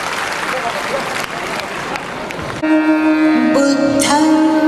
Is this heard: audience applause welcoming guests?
yes